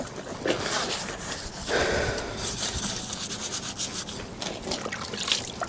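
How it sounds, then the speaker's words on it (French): A brush scrubs a motocross bike with soapy water in steady, close rasping strokes that continue without a break. "moi ce que je fais c'est eau savonneuse et on frotte"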